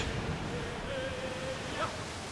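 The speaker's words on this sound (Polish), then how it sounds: "to jest na pewno wysoka fala" High ocean waves in the pirate sailing game Assassin's Creed IV Black Flag roll in as a steady, dense wash of surf and wind, loud and continuous.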